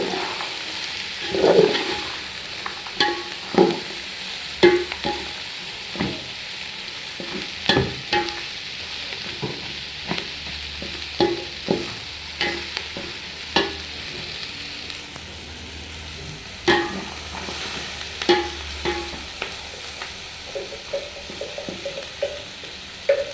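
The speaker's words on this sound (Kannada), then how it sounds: "ಎಲ್ಲ ಹಾಕಿ ಚೆನ್ನಾಗಿ ಫ್ರೈ ಮಾಡ್ಕೋಬೇಕು." Chopped coconut slices frying in oil in a pan, sizzling softly under repeated scraping and stirring knocks that come every second or two, close and clear with no talk.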